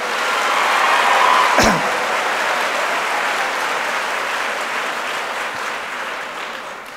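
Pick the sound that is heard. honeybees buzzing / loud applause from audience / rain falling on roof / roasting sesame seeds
loud applause from audience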